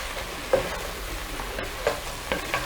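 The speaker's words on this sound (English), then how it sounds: "I'm mixing everything together here." A tomato and beef mixture sizzles softly in a pan while a utensil stirs it, with a few sharper scrapes and clinks standing out over a low, steady frying hiss.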